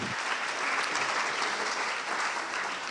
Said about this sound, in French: Donc on peut l'applaudir également bien fort.